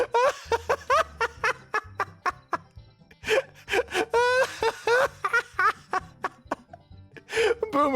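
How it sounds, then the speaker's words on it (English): A male player gasps over in-game voice chat as he loses his grip on a ladder: a run of loud, close, breathy vocal gasps and moaning wails in quick bursts over a low steady tone. "Boomer made a big gasping noise as he lost his grip on the ladder"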